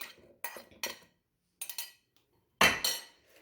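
Chopped carrots dropped into a metal pot of meat and potatoes, several short clattering and clinking bursts separated by silences, ending in one louder tumbling clatter.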